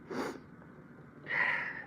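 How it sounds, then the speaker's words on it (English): A single person sneezes: a short inhaled buildup followed after a pause by a breathy, nasal burst, close and fairly quiet, with no speech. "Damn, that sneeze came out of nowhere."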